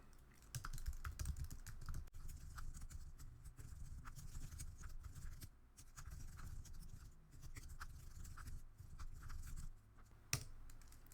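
Code comment being typed on a computer keyboard, a steady run of quick, close, soft key clicks with brief pauses and one sharper tap near the end.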